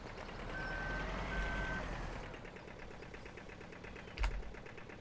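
Truck reversing beeps in Farming Simulator 17, a steady run of short regular tones over a continuous engine rumble, with a brief knock near the end.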